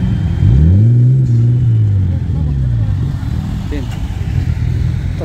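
A Mercedes-Benz CLA250 at a car meet drives past with a rising then falling engine note, passing close and fading, with people talking over it.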